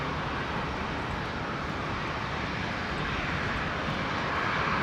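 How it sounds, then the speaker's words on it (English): A Saab turboprop airliner on short final to land at Brisbane Airport gives off a steady broadband engine roar at a moderate distance, holding constant with no voices over it. "I do love the sound of the Saabs."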